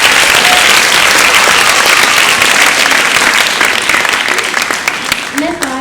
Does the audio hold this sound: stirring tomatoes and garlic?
no